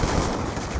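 Rapid gunfire rattles in Call of Duty: Black Ops 2, a brief dense burst of close, loud shots with no talking.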